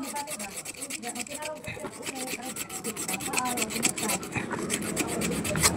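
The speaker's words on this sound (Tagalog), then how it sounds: "So kailangan lang natin itong lihain." Sandpaper rubbing against a motorcycle part near the front bushing, a close, steady rasping scrape in quick repeated strokes that grows slightly louder toward the end, with no speech.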